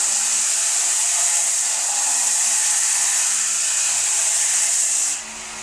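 A Forestwest 4x6 inch 375W belt disc sander chamfers the corner of a workpiece, giving a loud, steady whirring hiss that holds for about five seconds before the grinding drops away and the motor keeps running alone.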